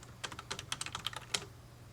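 Quick, light clatter of computer keys as a name is typed, an irregular burst of close keystrokes lasting about a second before going quiet.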